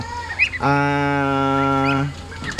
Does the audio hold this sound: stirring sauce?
no